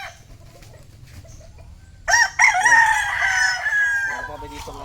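A Golden Boy gamefowl rooster crows loudly and close by, one full drawn-out crow starting midway and trailing off over about two seconds, after a quieter stretch with faint background noise.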